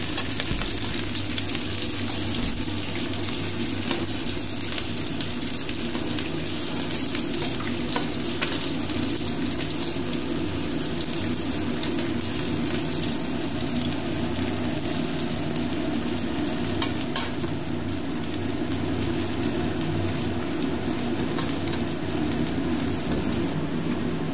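Chopped onions fry in a pan and are stirred, producing a dense, steady sizzle with soft scraping, close and unbroken throughout.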